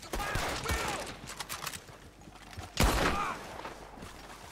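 Rifle gunfire in the Western video game Red Dead Online, two loud, sharp shots about two seconds apart, each with a ringing tail, over a busy game background.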